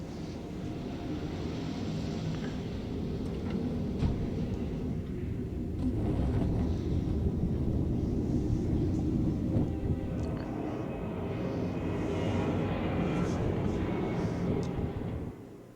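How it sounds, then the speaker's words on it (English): A jet-engine-like roar from a spacecraft in the space program strategy game Mars Horizon sounds as a loud, steady rumbling drone that holds for the whole stretch with no talk over it. "It makes jet engine noises, but does not have jet engines on it."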